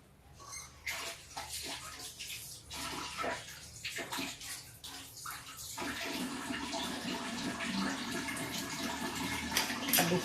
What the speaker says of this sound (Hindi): और मैं हाथ तो जरा क्लीन कर लूं।